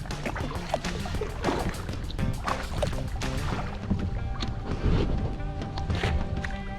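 Paddle strokes and water splashes from a kayak on a river during a long-distance race, a steady broadband wash with repeated dull thumps and knocks throughout, fairly close, with no talking.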